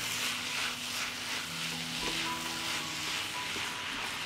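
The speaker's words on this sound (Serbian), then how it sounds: "Dok se kupus prži" Shredded cabbage sizzles softly in a pan over low heat, a steady, gentle frying hiss with occasional quiet scrapes and clinks from stirring.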